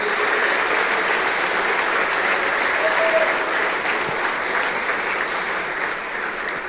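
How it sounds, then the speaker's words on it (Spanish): Steady applause from a church congregation during a sermon, dense and continuous for the whole stretch at an even, fairly loud level, with no voices standing out above the clapping. "Dale un fuerte aplauso al Señor,"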